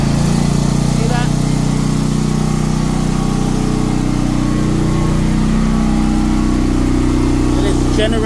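A portable generator engine runs steadily at a constant idle-like drone, close and loud throughout, with a steady low hum and no breaks.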